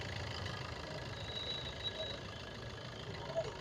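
A 2017 Maruti Suzuki Ciaz diesel engine idles smoothly, giving a faint, steady low rumble that holds even from start to finish with no revving.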